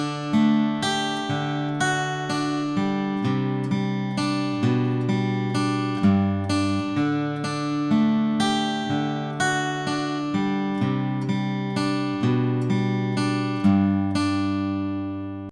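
A guitar plays the verse of a song with steady ringing arpeggiated chords, clear and close for the whole passage, with no voice over it.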